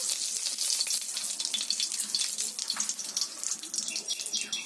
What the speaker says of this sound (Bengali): ওই তেলের মধ্যে দিয়ে দিলাম একটা তেজপাতা একটা শুকনো লঙ্কা